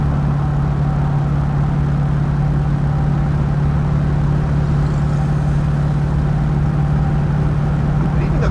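A 1968 Shelby Hertz Mustang engine runs steadily at a low idle throughout, a close, constant rumble with no talk over it.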